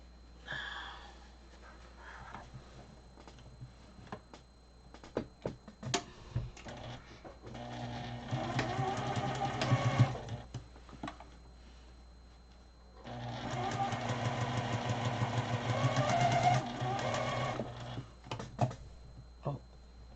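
A Juki 2010Q sewing machine stitches binding onto a dust cover in two long whirring runs of rapid needle chatter, separated by pauses filled with clicks, handling noises and faint breathing.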